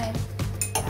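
A utensil stirs a glycerin solution in a container, making a few quick, close clinks and scrapes in about a second, with no voices.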